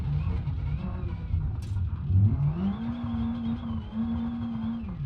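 Engine revving on a car set up as a rally car in BeamNG.drive, a steady droning motor that climbs in pitch midway and holds a high rev, loud and continuous with no talk.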